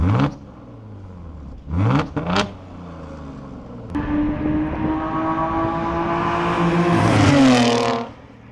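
An Audi Q7 fitted with a Lamborghini Urus exhaust system revs up close in short sharp blips, then holds a rising, droning rev that swells and drops off, loud and alone with no talking.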